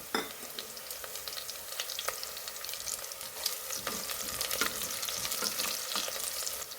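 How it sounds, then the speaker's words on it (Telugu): Curry leaves frying in a pan of oil with onion and green chilli for palak rice, a close busy crackling sizzle with sharp spits and pops throughout, no one talking. "ఇప్పుడు ఇందులో కొంచెం కరివేపాకును కూడా వేద్దాం."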